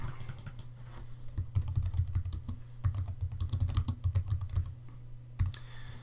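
Rapid typing on a computer keyboard while editing text, a dense run of close, crisp key clicks with brief pauses, heard alone with no voices.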